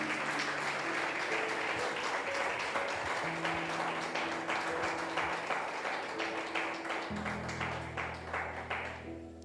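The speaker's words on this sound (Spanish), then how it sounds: "dele un fuerte aplauso al Señor" A church congregation applauding, a dense sustained clapping throughout, close and loud, with an organ or keyboard playing sustained chords underneath.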